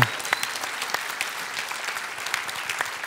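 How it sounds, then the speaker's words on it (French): An audience at a civic honours ceremony for citizens in Florange claps loudly, a thick, sustained burst of applause with scattered sharp individual claps standing out, continuing evenly throughout. "J'aimerais qu'on l'applaudisse bien fort."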